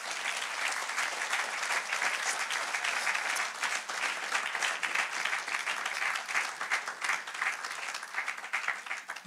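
A church congregation claps in steady, dense applause to praise the Lord during a worship service. The clapping continues evenly throughout at a moderate distance, with no talking over it.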